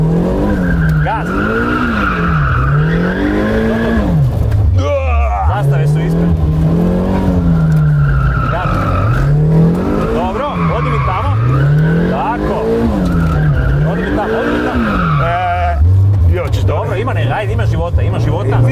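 A car drifts with its tyres skidding, the engine note rising and falling in repeated sweeping revs under a sustained squeal, loud and close across the whole stretch.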